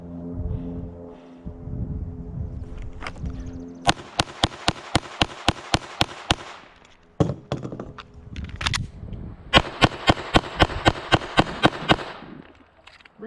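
Pistol shots fired at a 4x6 inch target from 5 yards on a shooting range: two rapid strings of sharp, loud cracks, about eight to ten each, split by a pause for a reload with handling noise between.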